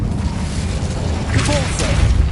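The Incendio fire spell cast in Hogwarts Legacy, a loud rumbling burst with a rushing whoosh that swells and holds for a couple of seconds.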